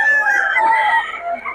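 A gamecock at a rooster seller's spot crows in one sustained, loud call close by, stretching across the whole moment and tapering at the end.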